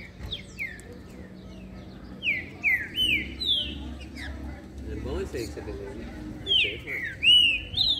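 A green-winged saltator (trinca-ferro) sings loud, clear whistled phrases in repeated bursts close by, while men chat over the song.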